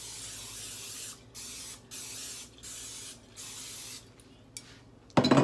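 Butter-flavored cooking spray hissing onto a baking pan in four steady bursts of about a second each, close and soft, followed by a brief clatter at the end.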